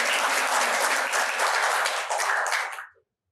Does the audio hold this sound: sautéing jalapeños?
no